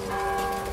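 A bell rings in the co-op video game Vermintide 2, giving a sustained, steady metallic tone with a bright ringing overtone that fills the short moment with no talk.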